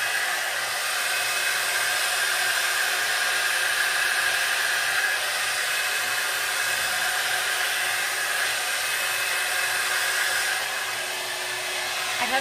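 A Conair Primrose 3-in-1 hot air styler runs on its high setting, giving a steady, loud, close-up whirring blow of air with a hissy edge. It holds an even level without a break for the whole stretch.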